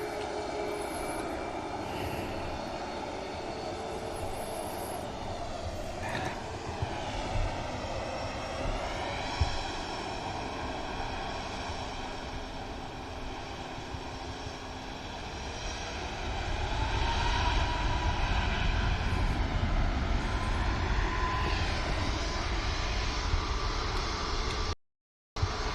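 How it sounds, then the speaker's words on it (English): A Ryanair airliner departs Manchester Airport, bound for Malaga, its engine roar building from a steady whine with shifting tonal harmonics into a loud, broad rumble near the end, with no talk over it. "There's Ryanair out next."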